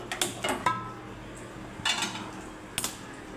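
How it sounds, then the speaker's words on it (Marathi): A metal kadhai is set down on a stovetop while cooking dhaba-style egg palak, giving a few sharp metallic clanks and scrapes, spaced apart, close and fairly loud over a quiet kitchen background. "तर आता आपण कढई ठेवूया वरती."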